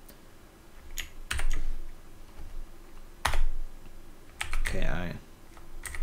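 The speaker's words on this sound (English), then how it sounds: "I will just type in the password you set in the hive external.ini." Password typed on a computer keyboard: a few scattered keystroke clicks and short bursts of typing, close and fairly quiet, with someone briefly speaking over them.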